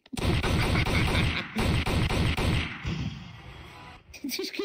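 Rapid gunfire in a VR video game rattles in dense bursts for about three seconds, then tapers off into quieter sounds with brief voice fragments at the end.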